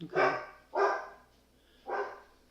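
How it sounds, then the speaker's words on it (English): A dog barks three times indoors at moderate distance, two quick barks then a third after a pause, with a person speaking briefly. "Sorry about my dog."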